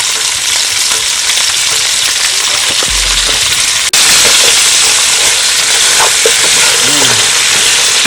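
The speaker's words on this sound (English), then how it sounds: "I'm going to sweat the veggies for about a good 5 to 10 minutes on medium low" Vegetables sweating in a pan on medium low heat for oxtail caldo, a loud, dense, steady sizzle close up with a brief clunk partway through, with no one speaking.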